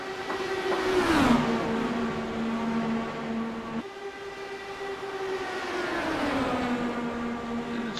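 Several race cars battle for the lead, engines droning at high pitch with a Doppler drop as one passes close, then another approaches and sweeps by, steady and loud.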